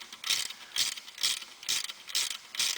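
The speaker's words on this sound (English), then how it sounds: "take your 1/2 inch ratchet and give yourself a couple turns" A 1/2 inch ratchet cranks the chain tensioner on a Covana motor-side post, giving six evenly spaced bursts of close, crisp pawl clicking about half a second apart with no talk.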